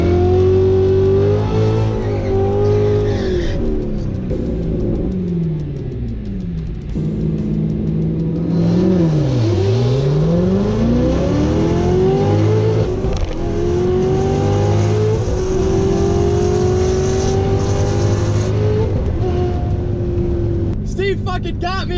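Cars racing at a Mustang-heavy callout event, engines revving and sweeping through gears with a loud pitch dipping and climbing, people talking over the noise throughout.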